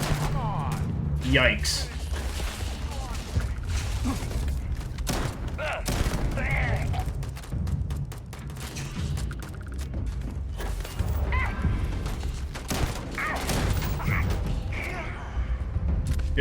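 Shotgun blasts and weapon mechanisms in the sci-fi video game Starfield, a run of sharp bangs and clacking reloads over a dense game soundscape, with a player briefly speaking.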